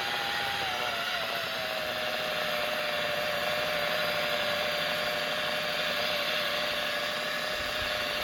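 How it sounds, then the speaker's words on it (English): A rotary buffer wheel spins steadily against a boat's gelcoat while polishing wax, giving a constant, close, unbroken power-tool whine and hum throughout, with no talking. "Really try to get the edge of that buffer wheel up underneath your gunnel"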